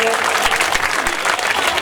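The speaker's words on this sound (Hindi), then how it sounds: "जोरदार तालियां विधायक जी के लिए" A crowd at a religious Krishna–Sudama storytelling gathering claps loudly and steadily for the visiting MLA, a dense, continuous burst of applause with a voice briefly audible beneath it.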